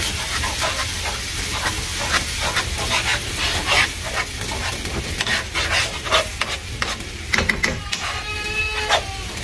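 Wet stirring and squelching as pasta is mixed into creamy Peruvian Huancaína sauce for tallarines, with soft sizzle-like hiss and irregular scraping strokes, close and fairly loud, no voices.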